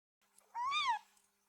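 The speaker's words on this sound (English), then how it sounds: "A quiet meow near the trees." A small gray cat gives a single quiet, rising-then-falling meow near trees outdoors, short and clear against near silence.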